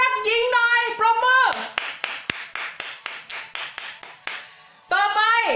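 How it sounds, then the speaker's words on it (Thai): A small audience claps in a run of separate, evenly spaced strikes at a Thai talk on relationships, between stretches of someone speaking before and after. "ปรบมือให้หญิงรักหญิงหน่อยค่ะ"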